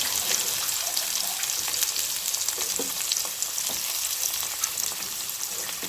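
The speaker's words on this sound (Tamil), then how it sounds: "இந்த 2 வெங்காயத்தை சேர்த்து நல்லா வதக்கிக்கலாம்." Two chopped medium onions fry in a pan for eggplant gravy, a dense, steady sizzle with faint stirring scrapes, continuous throughout and without any voices.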